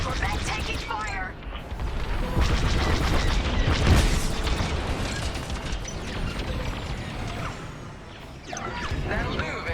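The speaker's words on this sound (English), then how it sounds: "Corvette taking fire" Space combat in Star Wars: Squadrons as a corvette takes fire: dense, continuous blasts, booms and crashing impacts with a dip near the middle, then the barrage builds again. Voice chatter runs over the battle.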